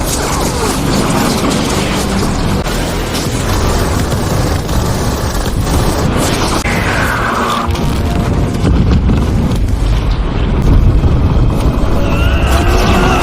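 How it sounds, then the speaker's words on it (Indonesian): Missiles strike a base in Kirov, a loud, dense roar of explosions and grinding mechanical rumble that continues without pause. "Beberapa rudal menghancurkan tempat itu."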